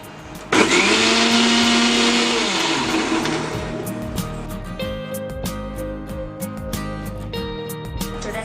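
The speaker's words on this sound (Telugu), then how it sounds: "మళ్ళీ ఒకసారి మిక్సీ పట్టుకుందాము." A kitchen mixer grinder blends boiled beetroot with its cooking water into juice: the motor starts abruptly with a loud, high whine, then settles lower into a rattling, churning drone as the jar spins.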